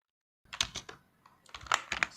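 Keys clack on a computer keyboard in two short bursts of quick taps separated by a brief pause, close and clear with no voices.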